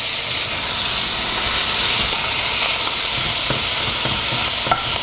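Bacon and garlic sizzle loudly in a pan over medium heat for a duck leg cassoulet, a dense, steady frying hiss with faint crackles and pops running throughout, no voices.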